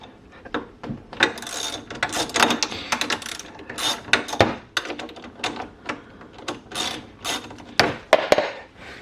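Rapid clicking bursts of a hand ratchet working loose the front brake caliper bolts on a Honda CBR600 RR motorcycle, close and fairly loud, in repeated uneven runs with short pauses between strokes.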